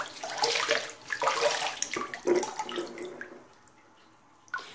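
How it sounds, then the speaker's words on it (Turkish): Tap water runs over a dust container from an Electrolux bagless vacuum cleaner being rinsed, with splashing and gurgling bursts that fade toward the end, followed by a short clunk. "Suyun altına yıkayın."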